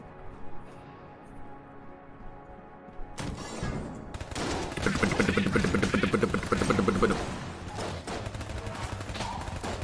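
Rapid gunfire from a Mac 10 and a Pulse Cannon in the video game Enter the Gungeon, with dense, loud bursts of shots that kick in after about three seconds of quieter game sound and keep going.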